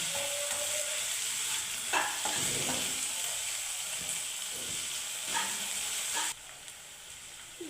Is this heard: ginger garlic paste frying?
yes